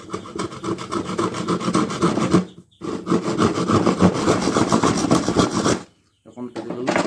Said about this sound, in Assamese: ফালিবলৈ হ'লে প্ৰথমে কৰদখন লৈ পেলাই অলপ এঢলীয়াকৈ কাটি লওঁ বস্তুটো